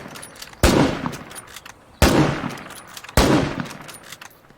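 Three loud, close gunshots from a rifle in the State of Decay 2 video game, spaced about a second and a half apart, each a sharp blast followed by a trailing echo that fades under faint background game sounds.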